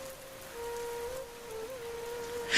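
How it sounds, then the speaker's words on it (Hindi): Heavy rain as a cartoon sound effect, thick drops pelting the ground in a steady, fairly loud wash with a thin sustained tone running through it, swelling briefly at the very end. "अचानक तेज बारिश शुरू हो गई। मोटी मोटी बूंदें जमीन पर गिरने लगी"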